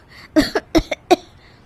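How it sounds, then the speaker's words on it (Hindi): Two cartoon women cough from wood-fire smoke filling a house, giving four or five short, sharp voiced bursts close together, loud and near. "दोनों खांसने लगती है।"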